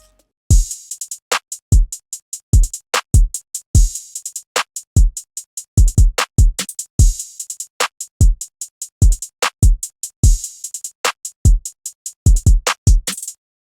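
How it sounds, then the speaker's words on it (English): Hip-hop type beat with a simple open hi-hat sample called Basic added on counts 1, 3, 5 and 7, over quick hi-hat ticks and thumping kicks, steady and loud with no voices. "And then I added just a simple open hat. It's called Basic."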